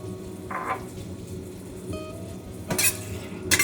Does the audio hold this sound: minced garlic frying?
yes